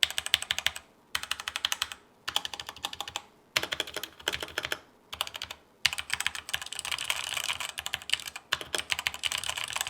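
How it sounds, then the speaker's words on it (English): Keys clatter on a hot-swappable Redragon mechanical keyboard with red switches, typed up close in quick bursts broken by short pauses. "it is hot swappable, and this is how it sounds with red switches"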